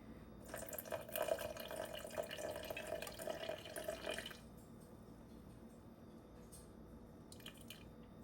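Filtered water poured into an einkorn sourdough starter, a soft trickling pour lasting about four seconds, then quiet with faint small taps afterward.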